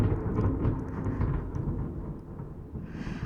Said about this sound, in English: I really hope you just heard that thunder crack.